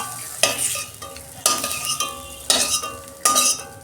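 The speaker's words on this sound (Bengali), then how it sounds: "কাঁকরেলগুলো আমি লাল লাল করে ভেজে নিয়েছি" Teasel gourd (kakrol) fries in a pan with a continuous sizzle and four sharp stirring scrapes at regular intervals, close and clear, with no talking.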